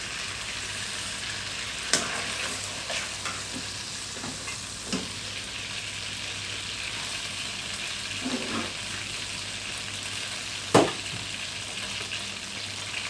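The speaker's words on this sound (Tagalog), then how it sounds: "Gisang-gisa na siya." Onions sautéing in a pan for chicken curry give a steady, close sizzle throughout, with a few sharp clinks and scrapes of a utensil stirring the pan. No one speaks.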